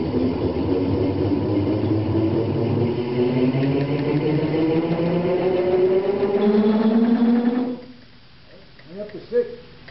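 A wood lathe spins up toward about 500 RPM, its motor hum rising steadily in pitch for several seconds before cutting off abruptly, followed by a few faint clunks.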